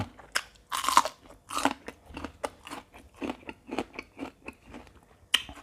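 Crispy fried fish eaten with Thai papaya salad, heard as a close, steady series of loud crunching bites and chewing, repeated roughly every half second with no talking.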